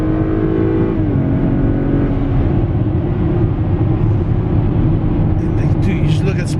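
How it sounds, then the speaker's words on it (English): An HPS intake on a 2021 Acura RDX A-Spec roars under acceleration inside the cabin, a loud continuous engine and intake drone rising in pitch then settling, with road rumble throughout. "You still hear all the intake noises, even with all the windows rolled up."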